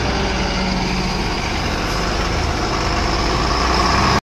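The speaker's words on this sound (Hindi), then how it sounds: "तो वो सामने मोटर चालू करवाई अंकल जी से, साफ करेंगे गाड़ियाँ।" A motor switched on to pump water for washing mud-caked cars, running as a steady, continuous engine hum throughout at moderate loudness, then cutting off abruptly at the end.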